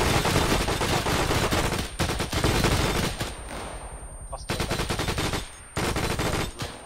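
Rapid bursts of automatic gunfire from a weapon in Arma 3, loud and close, coming in several dense volleys separated by brief pauses.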